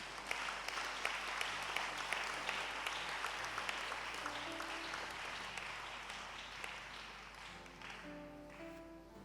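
A church congregation applauding at a worship service, dense, sustained clapping from many hands that holds steady and slowly fades, with faint voices and music beneath.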